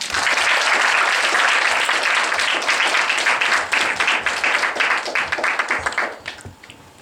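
An audience gives a lecturer a long round of applause after a Bible lecture. The dense, even clapping stays strong before thinning out and fading near the end.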